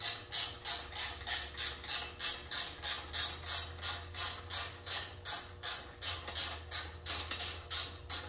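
Rim spools are tightened on a Suzuki DR-Z400SM motorcycle wheel during a tire change, giving a close, steady series of rhythmic ratcheting clicks and creaks, about two per second, over a low hum.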